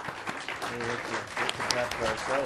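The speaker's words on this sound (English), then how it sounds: "Unless we are clapping for Cristian" Applause from an audience with voices talking over it, steady clapping that fills the room for a couple of seconds.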